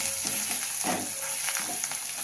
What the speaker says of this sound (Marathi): यामध्ये टाकू कोथिंबीर. छान असं परतून घेऊया.